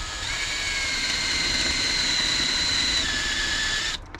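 A drill bores steadily into metal with a bit freshly sharpened on a Lidl bit sharpener, a loud, close whining drone with a thin whistling squeal that cuts off abruptly near the end.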